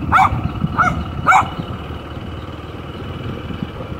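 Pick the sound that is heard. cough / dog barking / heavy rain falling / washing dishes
dog barking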